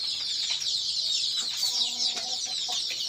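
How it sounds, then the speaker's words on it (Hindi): On a poultry farm keeping Sonali chickens, a hen gives soft, short clucks over a steady hiss of background farm noise, with no talking. "ये हमारी मुर्गी है"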